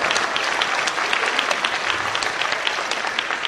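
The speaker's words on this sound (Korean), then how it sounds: "박수 한번 쳐주시고요" Congregation at a Korean Christian leaders' forum worship service applauding: dense, loud, sustained clapping from a large crowd that holds an even level from start to finish.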